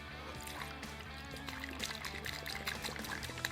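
Full-strength antifreeze coolant poured through a funnel into a new heavy-duty radiator on a Polaris RZR Trail S 1000, a continuous soft trickle and gurgle of liquid heard close up and fairly quiet.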